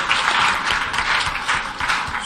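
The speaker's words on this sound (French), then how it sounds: "d'applaudir fortement pour elle." Warm applause from an audience at a teachers' network gathering, a dense steady patter of many hands clapping close and fairly loud without any talk.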